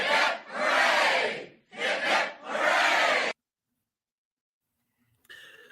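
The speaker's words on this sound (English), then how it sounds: "3 cheers for Pastor Malone." A crowd gives three loud cheers for Pastor Malone, each burst a broad shout from many voices, the third followed by silence and a brief faint sound at the end.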